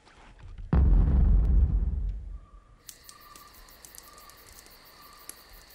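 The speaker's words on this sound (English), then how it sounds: "you blew up the van!" A van blows up with a sudden loud boom that rumbles and decays over about a second and a half, followed by quiet ambience and a faint, high, insect-like chirping.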